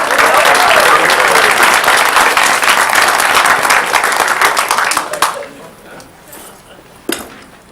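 A school board meeting audience in Caddo Parish gives a loud, dense round of applause for several seconds before it thins and dies away, followed by one brief late clap.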